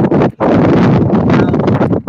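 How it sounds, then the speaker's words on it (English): Strong wind buffets and roars across the microphone on a rooftop overlooking the Gulf of Thailand, in continuous gusts, loud and close, with a brief lull near the start. "Sounds windy up there."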